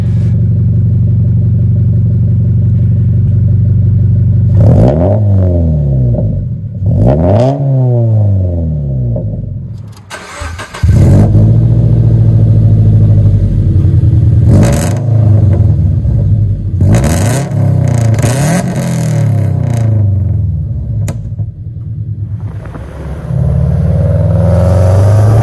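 A tuned Subaru BRZ with aftermarket headers starts up, revving several times in rising and falling sweeps before settling into a steady idle, loud and close throughout.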